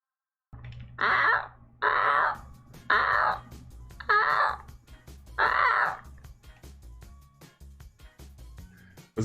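A person imitates a seagull with five loud, harsh, drawn-out squawking cries in a row, each separated by a short pause, sounding rough and angry, close to the microphone.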